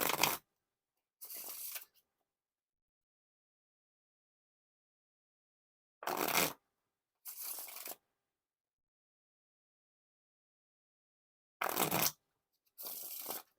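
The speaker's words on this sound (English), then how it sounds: "Now, time for the riffle shuffle or bridge shuffle." Howler Bros playing cards by Theory11 are riffle shuffled and bridged in three quick pairs of crisp, close fluttering bursts, each pair separated by several seconds of silence.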